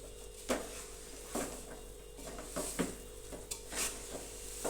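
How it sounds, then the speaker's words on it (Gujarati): Stirring a wheat and gram flour ladoo mixture with ghee in a pan: scattered scraping strokes and soft metallic knocks of a spoon against the pan at irregular intervals, quiet and close, over a faint sizzle. "થોડુંક આપણે ઉપરથી ઉમેરી દેશું અને ફરી આપણે તેને સારી રીતે હલાવી દઈશું"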